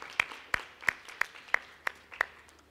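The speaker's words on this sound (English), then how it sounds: "Can we give him another round of applause" Applause at a corporate talent management seminar comes across as sparse, evenly spaced single claps, about seven sharp ones at a steady rhythm, fairly quiet against a low room hum.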